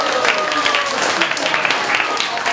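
An evening crowd at a local gathering claps to welcome a pineapple farmer from Guanmiao. The applause is brief and scattered, with voices talking over it.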